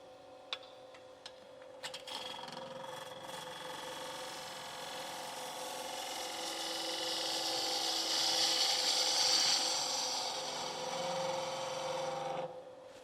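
A woodturning gouge cutting clean across end grain on a lathe, a continuous rough scraping whir that swells in the middle and stops near the end, with a few sharp knocks at the start.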